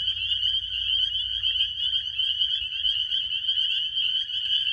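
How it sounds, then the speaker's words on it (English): Toads call from pools at night in metro Atlanta, a loud, sustained high trilling chorus that runs unbroken and fairly close, with a low rumble of background noise beneath. "there's toads calling right behind me."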